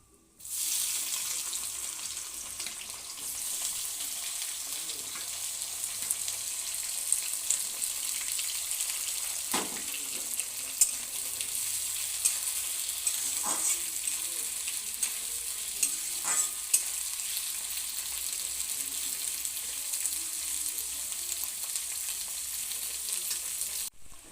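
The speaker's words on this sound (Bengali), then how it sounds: "এবারে এর মধ্যে পেঁয়াজ কুচি দিয়ে দিলাম।" Chopped onion sizzles and fries in hot oil with bay leaves, cardamom and cinnamon for a chicken and potato curry, a steady close hiss with a few stirring scrapes and no talk.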